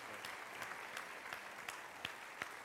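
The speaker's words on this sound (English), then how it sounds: "Clap louder, Chancellor." Faint, distant audience clapping in a lecture hall before a televised panel discussion on politics and the Supreme Court, a steady patter with a few sharper claps standing out.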